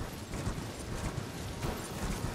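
A horse ridden in Elden Ring gives a steady, continuous run of clip-clopping hoofbeats with a rumbling ground tone, moderately loud, with no talk.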